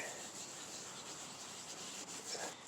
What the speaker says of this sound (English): the next step, which is basically wet sanding